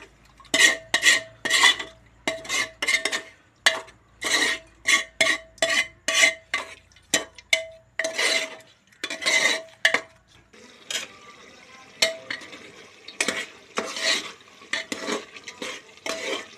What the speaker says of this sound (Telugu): మంచిగా మిక్స్ చేసుకోవాలి. ఇది కొద్దిగా ఉడకాలి మంచిగా.